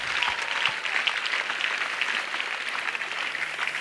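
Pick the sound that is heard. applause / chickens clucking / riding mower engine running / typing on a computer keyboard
applause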